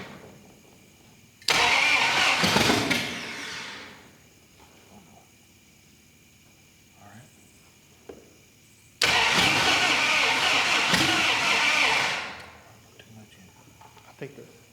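A new engine in a 1958 Plymouth barn-find car is cranked twice, each attempt a loud burst of starter grinding and rough sputtering lasting a few seconds before stopping, with quiet pauses, faint ticks and voices nearby between tries.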